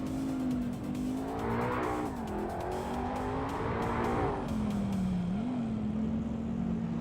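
Race cars jostling nose to tail in a running race, engines droning steadily with rising and falling pitch as they accelerate, loud and continuous throughout, with no talking.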